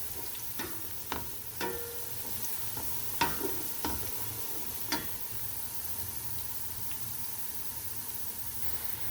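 Onions browning in a pan while a spoon stirs them nonstop, a soft steady sizzle broken by scattered sharp clicks and scrapes of the spoon against the pan, with no talking.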